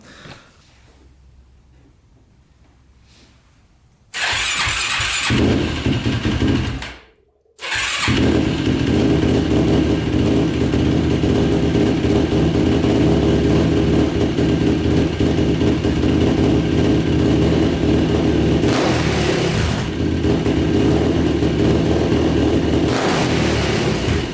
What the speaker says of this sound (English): It starts up and idles, and then when you crack the throttle, it doesn't backfire too much